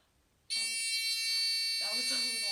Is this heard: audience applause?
no